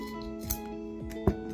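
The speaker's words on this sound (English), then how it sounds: "We trim the wick." Scissors snip a candle wick twice in quick succession, each cut a short metallic click over a low steady hum.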